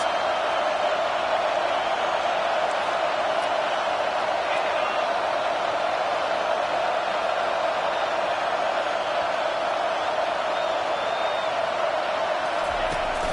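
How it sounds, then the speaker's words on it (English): A large stadium crowd in the College Football 25 video game roars and cheers continuously during a football game, a dense wall of noise that holds steady throughout. "Listen to this crowd just shaking the girders of this place, trying to help their defense."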